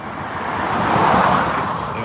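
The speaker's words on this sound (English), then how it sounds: "Let this car go by." A car drives past on a road in Pearland, Texas, a broad whoosh of tire and engine noise swelling to a peak mid-pass and easing slightly, close and fairly loud.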